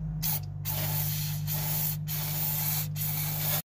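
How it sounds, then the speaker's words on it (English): A loud, continuous aerosol hiss of degreaser sprayed close by onto a Ford Transit EGR valve, with brief pauses between bursts, ending in a short cutoff. "it's a spray down and I'm just letting it soak"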